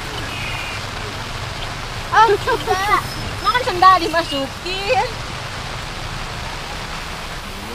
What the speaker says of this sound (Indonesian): Hujan udah mulai turun